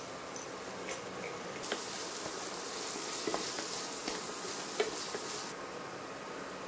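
Dried coconut paste and ground spices frying on low flame in a pan for cauliflower curry, a steady soft sizzle with faint stirring clicks throughout, louder in the middle stretch.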